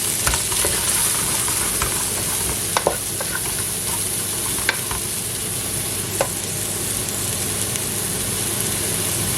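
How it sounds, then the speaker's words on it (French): Onions and red and green peppers sizzle in leftover fat in a pot for a Basque-style chicken, a steady broadband hiss with a few sharp spatters and stirring clicks, close and alone. "on va mettre les légumes. Donc on commence par les oignons et"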